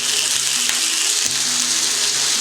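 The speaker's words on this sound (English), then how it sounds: "now I am going to add sausages in it." Sausages frying in a hot pan, giving a steady, loud hiss and sizzle. Faint clicks and stirring knocks come through now and then, with no one speaking.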